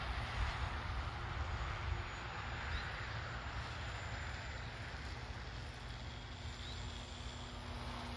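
A radio-controlled model airplane fitted with a parachute drop mechanism drones steadily overhead, a continuous distant engine buzz mixed with wind noise, faint and unbroken throughout.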